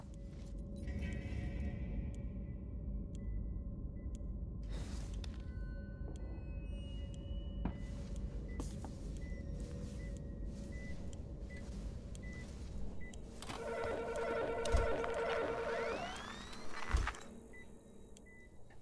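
Synthetic space station ambience for an Alien: Isolation game scene, with low mechanical hum, sparse electronic beeps and tonal whirs, rising into a busier cluster of layered tones and sweeps near the end.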